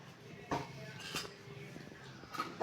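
A spoon stirs a potato and egg curry in a pot with the stove turned off, giving a few faint metallic clinks and scrapes against the pot.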